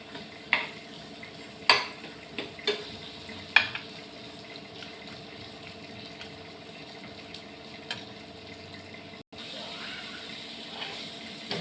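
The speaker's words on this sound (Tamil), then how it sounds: "இந்த தோசைக்கு இந்த கத்திரிக்காய் ஃப்ரையை திருப்பி போட போகிறேன்" Brinjal fry in a pan being flipped and stirred while it fries, a soft continuous sizzle with a few sharp spatula scrapes and knocks near the start, close and fairly quiet.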